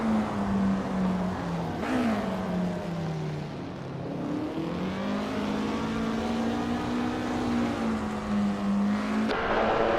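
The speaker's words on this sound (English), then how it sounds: "I hope you're ready for some exciting AI car races today." AI-driven race cars in a video game roar continuously, one engine tone rising and falling with gear shifts and revs, with brief changes as cars pass; loud and steady throughout with no talking.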